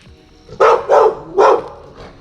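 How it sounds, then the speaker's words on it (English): Dogs on an animal farm at Adisham Bungalow in Haputale, Sri Lanka bark three times in loud, close, sharp woofs, evenly spaced, followed by a fainter fourth bark. "They have different types of dogs here."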